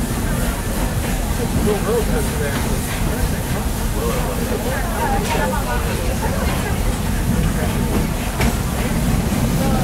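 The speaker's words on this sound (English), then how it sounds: "There are some who say that this steam train is a little old-fashioned" A steam train rumbles and clatters steadily along the rails at Disney World, loud and close, while a crowd murmurs and chatters throughout.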